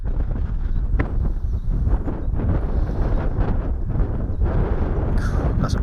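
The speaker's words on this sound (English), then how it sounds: "Still windy as hell. I'm not sure if you can hear that on the old microphone." Strong wind buffets an outdoor microphone at a fishing session, a continuous low rumbling roar with gusty fluctuations throughout.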